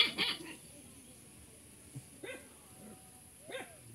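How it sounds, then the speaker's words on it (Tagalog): A few short barks from dogs some distance away, scattered over quiet background hiss, with a faint voice early on. "Tatapang ng mga aso."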